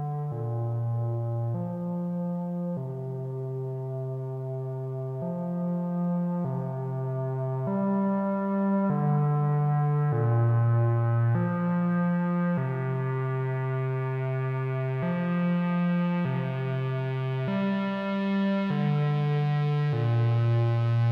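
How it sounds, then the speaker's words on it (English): A repeating synthesizer bass sequence with a filter on a slow LFO gradually opening and closing, and spacious reverb, steady and alone for about twenty seconds. "filter on a slow LFO, so the filter gradually opens and closes"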